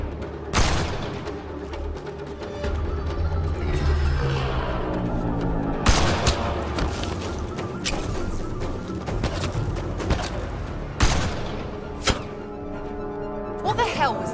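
Gunfire in a sniper shootout in the video game Mass Effect Andromeda: scattered sharp shots and booms, some loud and close, amid battle ambience, while people speak over the fighting.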